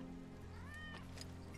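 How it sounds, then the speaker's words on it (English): A single drawn-out cat meow rises and falls in Final Fantasy VII Remake, fairly quiet and close over faint game ambience. "That's Wedge's cat."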